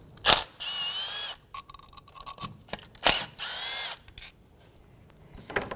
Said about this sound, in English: Using a T30 bit, remove the two bolts for the ignition coil.